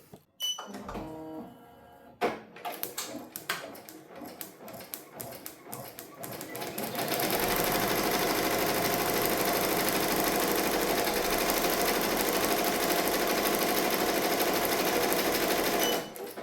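An embroidery machine stitching a design onto a hooded hoodie starts with a few clunks, then runs at a loud, fast, steady mechanical chatter that continues without pause.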